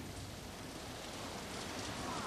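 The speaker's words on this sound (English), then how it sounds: "Torrential rain sweeps in from the north." Torrential rain sweeps in during a storm above cave country, a dense, steady roaring hiss that stays loud and close throughout, unbroken and without any voices.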